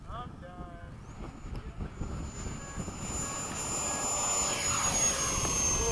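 An F-104 jet takes off in a flight simulator game, its engine roar steadily building and rising in pitch as the aircraft accelerates, loud and continuous.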